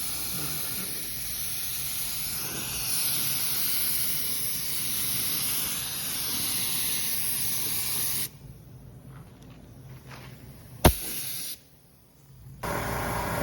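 Clear coat sprayed from a can onto a car headlight during a restoration: a loud, steady close-up hiss that cuts out briefly, with one sharp click, then resumes.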